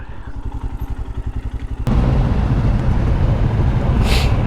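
A group of about twenty idling motorcycles, many of them Royal Enfields, gathered for a club ride, heard first as a pulsing single-cylinder thump, then as a louder steady engine roar with wind buffeting the microphone.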